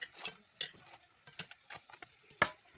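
Scattered crackles and pops of chebureki frying in hot oil in a pan, with intermittent louder spits, close by and without voices.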